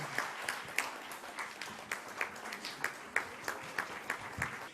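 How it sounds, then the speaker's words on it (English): Audience at a televised ASEAN event broadcast clapping together, a moderate round of applause with uneven individual claps spread evenly through the stretch. "Let's give them another round of applause."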